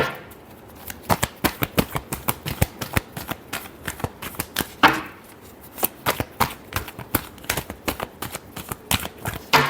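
Tarot cards being shuffled by hand, a rapid run of crisp riffling slaps and flicks in uneven bursts, close and clear with no talking over them.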